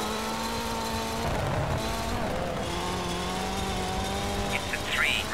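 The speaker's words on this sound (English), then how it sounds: "Yeah, that engine doesn't sound good." Rally car engine in the video game Colin McRae Rally, a continuous strained revving drone that shifts pitch with gear changes, with brief tire squeals near the end.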